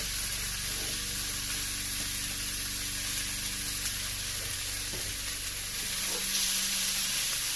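A steak fries in a pan, giving a constant loud hissing sizzle with a faint clink or two from tongs and no voices.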